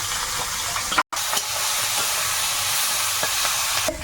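Chopped onion and whole chillies fry in hot oil in an outdoor kitchen, a loud, continuous sizzle broken once by a brief cut to silence, with occasional light stirring scrapes.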